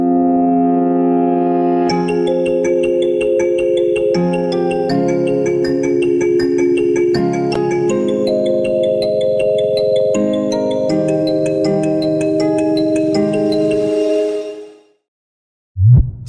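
A melodic dubstep intro plays on its own: sustained piano chords and melody under a bright, plucked kalimba arpeggio with atmospheric ambience, ending in a short transition hit after a brief gap.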